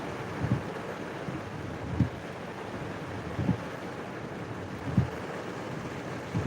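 Steady broadband wind and heavy rain roar in Kerala with coconut trees swaying, no gaps, with low rumbling gusts or thuds surging every second or two throughout.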